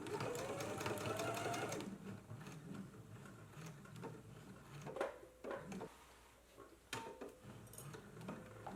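A home sewing machine stitches a dress waistband seam at a 5/8 inch allowance. A steady, fairly quiet motor whir runs for about two seconds, then gives way to softer intermittent clicks and handling noises.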